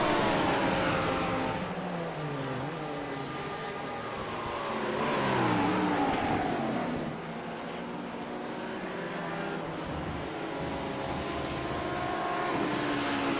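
TCR race cars in a 24H Series esports racing game, engines droning and shifting pitch steadily throughout as several cars pass, with no talk over the sound.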